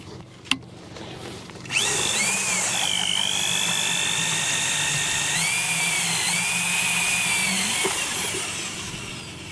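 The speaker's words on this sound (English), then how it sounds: "Klaus Meiners is drilling an ice core." A click, then a loud powered drill starts up boring an ice core in Antarctica and runs steadily with a high whining pitch that shifts slightly, winding down at the end.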